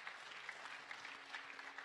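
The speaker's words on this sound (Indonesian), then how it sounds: "Berikan tepuk tangan buat Tuhan." A church congregation claps during a Sunday service, a soft, fairly distant patter of applause that runs steadily throughout.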